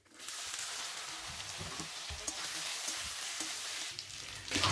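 Thin strips of taro root (arbi) dropped into hot oil, setting off a steady, close sizzle and crackle of frying that runs on evenly throughout.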